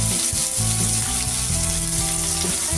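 Two slit green chillies sizzling in hot tempering oil for rava upma, a loud dense crackle with a humming, wavering tonal drone beneath, brief and without speech.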